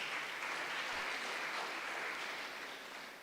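An audience at a conference on Nigeria's IHR joint external evaluation applauds, a steady dense clapping that holds for a few seconds and then starts to fade, with no speech over it.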